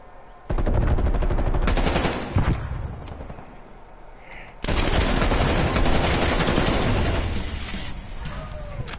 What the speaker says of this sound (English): That was a full auto weapon, boy.